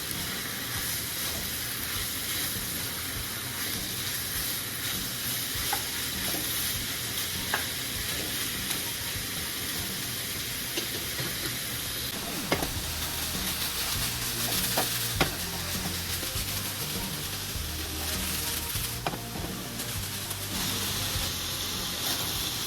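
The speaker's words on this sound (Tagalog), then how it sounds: "Hintayin lang natin ma-sear tong ating beef" Beef sears uncovered in a hot pan for beef and broccoli, giving a continuous loud sizzle with occasional stirring scrapes and sharp clatters, no voices.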